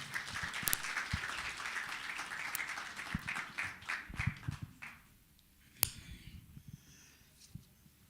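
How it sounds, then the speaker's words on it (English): An audience at a book launch applauds as a speaker comes up, a steady round of clapping that dies away after about five seconds, leaving a quiet room with a few footsteps and small knocks. "So please join me as we give Babu Nkosi a round of applause as he comes up."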